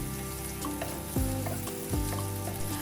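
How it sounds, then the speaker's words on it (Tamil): Green chili, onion and tomato fry in oil in a pan with a steady, loud, close sizzle, and a couple of stirring scrapes punctuate the crackle. "அடுப்பில் கொஞ்சம் எண்ணெய் சேர்த்துக்கிட்டு 1 பச்சை மிளகா, 1 வெங்காயம், 1 தக்காளி சேர்த்து இதை நல்லா வதக்கி எடுத்துக்க போகிறேன்."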